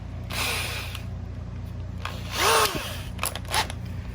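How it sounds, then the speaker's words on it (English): A power drill drives a hole through a part for a Crescent Lite Tackle kayak front hatch hood pin modification, whirring in several short bursts with brief pauses and a spinning-down pitch sweep, close and fairly loud. "drill all the way through"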